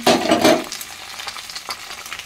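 Chopped onions and chillies hit hot oil in a pan with a loud initial sizzle, then settle into a softer, steady frying hiss with light scraping of a stirring spoon.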